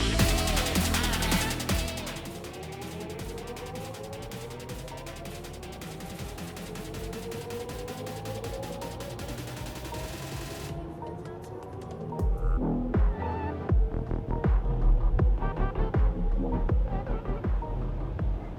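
An Audi Q8 e-tron, BMW iX or Mercedes-Benz EQE electric SUV launches hard in sport mode, its motor whine rising steadily in pitch over a low road rumble, with a thumping bump later on.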